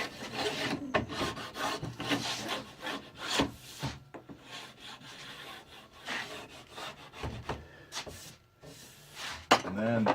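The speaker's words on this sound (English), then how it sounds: "take my groove scraper and clean up the edges a little bit" A groove scraper scrapes wax from the edges of cross-country skis in repeated short rasping strokes with an irregular rhythm. Faint voices and handling noises can be heard in between.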